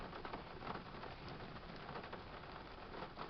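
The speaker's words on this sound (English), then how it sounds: "I don't think this rain's gonna stop anytime." Steady rain falling on a rainy day outdoors, a dense, continuous hiss of drops on surfaces close by with no pauses, no voices heard.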